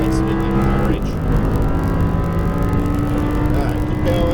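An Audi R8 V10 engine pulls hard around a racetrack, a steady loud drone whose pitch climbs and then drops with a gear change near the start before rising again, with no talking over it.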